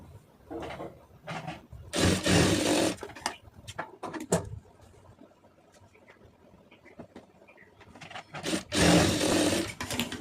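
An electric sewing machine stitches a cotton lining blouse in several short, fairly quiet bursts of rapid clatter, separated by pauses with soft rustling of fabric.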